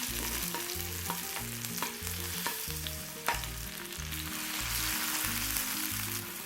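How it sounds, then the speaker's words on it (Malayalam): Shallots with chopped ginger frying in oil for a Kerala-style fish roast, a dense continuous sizzle with occasional sharp utensil taps, alone without voices. "ഇനി ഇതൊന്ന് ഈ എണ്ണയിലൊന്ന് മൂപ്പിച്ചെടുക്കാം"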